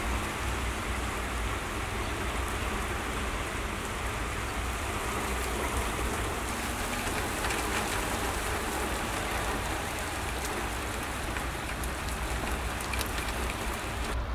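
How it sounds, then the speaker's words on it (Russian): Heavy rain pours down steadily outside a garage, a dense hiss of drops drumming on surfaces that holds unbroken from start to finish. "Как всегда, не вовремя ливанул дождь."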